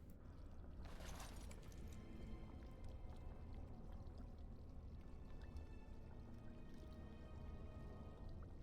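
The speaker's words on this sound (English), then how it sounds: "Fill the earthen jug with water." Water pours into an earthen jug at a pool in Dragon Age: Origins, a steady trickling fill over a constant low ambient hum, quiet and unbroken, with no voices.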